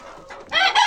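Baladi and Fayoumi chickens let out into the sun cluck and squawk up close, a few quiet calls building into a louder burst of clucking toward the end, with no talking.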